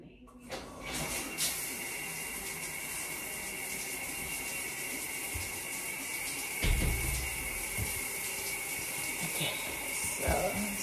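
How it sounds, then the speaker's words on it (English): Water runs from a shower at home in a steady, soft hiss that continues throughout, with a few faint clunks and brief rises along the way. "Time to shower, people. Not that I'm gonna show you guys, but we have the water"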